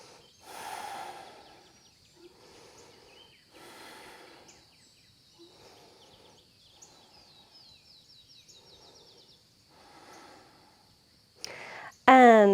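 Deep, slow breathing during a full-body yoga stretch: several soft, airy inhales and exhales at an unhurried pace, faint and close, with light bird chirps in the background and a sharp burst of noise right at the end.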